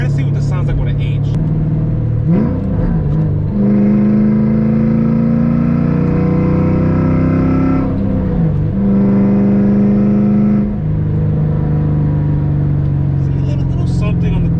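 Engine of a 1998 Mustang Cobra revving through a downshift, a loud, close, sustained drone that climbs and dips twice with brief gear-change breaks, with someone talking over it.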